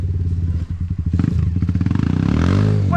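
KTM dirt bike engine on a muddy trail ride, loud and close, chugging at low revs and then revving up into a rising whine, with some clatter.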